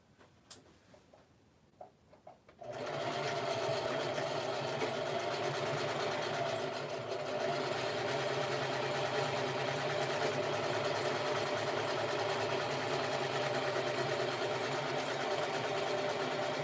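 A sewing machine running a zigzag stitch on a holiday lounge set, starting after a few soft clicks and then whirring steadily and loudly at a constant rhythmic hum, with no talking.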